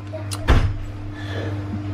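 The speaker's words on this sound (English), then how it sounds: "Can you shut the back door for me" A back door in a family home is shut with one sharp thud, followed by a faint rattle and low household hum.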